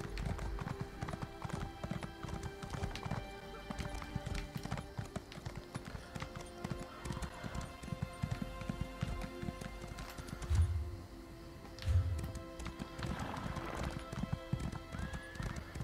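Hooves of a horse galloping in Elder Scrolls Online, a fast continuous clatter of clip-clops with a neigh or two rising briefly, alone and without speech.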